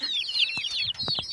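Roosters, including a yellow one and a grey-red one, give a few short clucks beneath a steady stream of high, thin chirping nearby.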